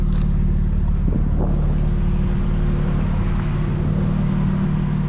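Powerful car wash air dryers blow steadily over a 2025 BMW M4 Competition, a loud, constant roaring rush of air with a low hum beneath and no talking.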